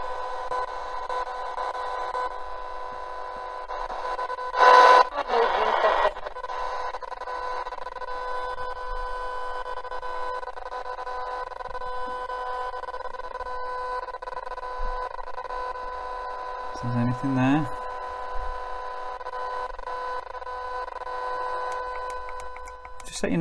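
A shortwave radio receiver, a budget F170 21-band set, hisses with a steady buzzing electrical interference tone, broken by a couple of brief louder bursts and a low warbling blip, with no voice over it.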